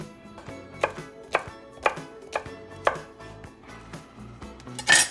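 A knife chopping food on a board in a series of sharp, evenly spaced thuds, about one per half second, close and clear, with a louder clatter at the end.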